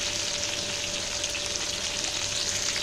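Potatoes and raw banana frying in a pan, a dense, even sizzle holding steady and close throughout with no other sounds.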